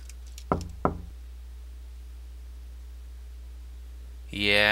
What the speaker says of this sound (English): Knocking, but no response.